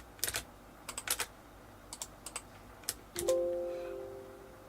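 Computer keyboard keys tapped during a Metin2 game session with sticky keys active, heard as scattered clusters of close, crisp clicks followed by a brief sustained electronic tone that fades away.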